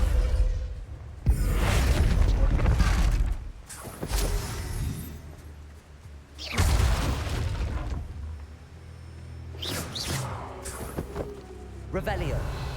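Spell blasts and explosions from combat in Hogwarts Legacy, several loud bursts with whooshing swells and deep booms in clusters across the span, with a spoken voice mixed in among them.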